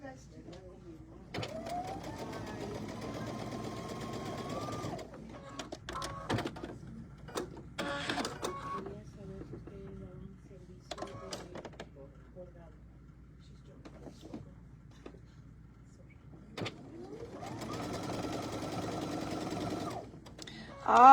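A sewing machine stitches quilt half-square triangles in two steady runs of rapid mechanical whirring, close and fairly quiet, separated by a stretch of handling noise and talk.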